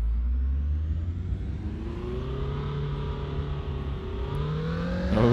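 Simulated car engine in Assetto Corsa racing on the Nürburgring Nordschleife, revving loudly and steadily with rising harmonic whine, a continuous close engine drone throughout with no voices.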